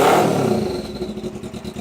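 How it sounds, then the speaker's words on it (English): A 1991 motorcycle engine revs close by, its rough exhaust rumble fading slightly while a thin, faint turbo whistle from the exhaust canister rides above it. "on the exhaust canister, it's got a turbo whistle. You can kind of hear it when you're shifting"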